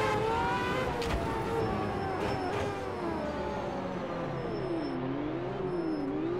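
Formula 1 car engine from the Automobilista 2 racing game at Monaco, a continuous high-pitched whine that climbs and dips with gear changes and throttle, loud and close, no talk.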